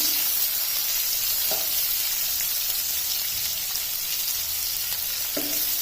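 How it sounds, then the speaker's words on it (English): Onions fry in hot ghee with a soft, even crackling sizzle, fairly quiet and close, with a couple of faint clinks of a utensil against the pan. "I'm going to add in all our onions. We're going to fry these."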